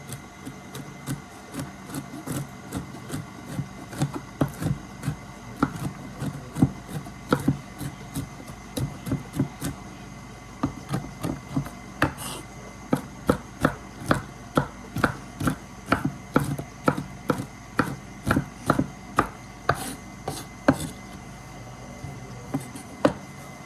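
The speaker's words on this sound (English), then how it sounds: "I'm going to go ahead and get some more walnuts diced up" A knife chops walnuts on a cutting board in quick, rhythmic strikes, dozens of crisp taps in steady bursts, close by with a faint background hum and no speech.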